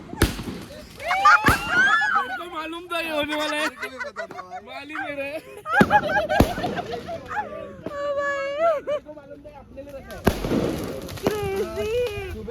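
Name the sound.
Diwali firecrackers bursting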